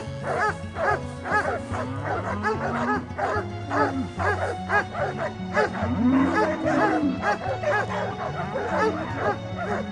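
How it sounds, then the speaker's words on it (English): Several farm dogs bark, yip and whine continuously while rounding up cattle on a New Zealand farm, their overlapping voices close and lively throughout, with no talk. "You can see the farmer here with his cattle getting rounded up by the dogs."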